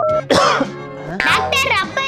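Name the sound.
man coughing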